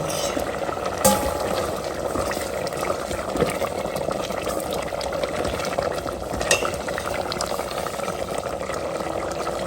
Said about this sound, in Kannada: ಅಷ್ಟು ಚೆನ್ನಾಗಿ ಕುದೀತಿರುವಂಥ ಮಜ್ಜಿಗೆ ನೋಡಿ ಇವಾಗ ಎಷ್ಟು ಚೆನ್ನಾಗಿ ಕುದೀತಾ ಇದೆ